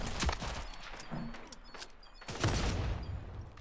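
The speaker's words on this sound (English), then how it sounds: "I think somebody shot it and it blew up." Gunfire and an explosion in a first-person shooter video game, with a submachine gun in play: bursts of shots around a quarter second and again near two and a half seconds, plus a louder blast and rumble, all over busy game noise.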